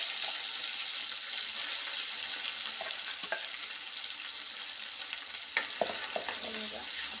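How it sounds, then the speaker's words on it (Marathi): Homemade gravy poured into a pan of frying peas and cauliflower sizzles steadily, with a few brief clinks and stirring scrapes near the end. "आता जी आपण ग्रेव्ही केली आहे ते ग्रेव्ही टाकत आहे मी याच्यामध्ये."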